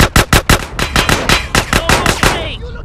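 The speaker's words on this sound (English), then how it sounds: "You gotta shoot him now" Rapid automatic gunfire from Grand Theft Auto San Andreas, a loud close burst of about a dozen sharp evenly spaced shots, then a short fading tail with a faint voice.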